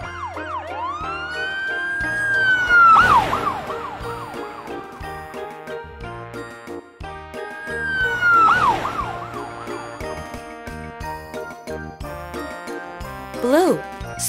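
A cartoonish police siren wails twice over a bright, tinkling musical backing, loud and close.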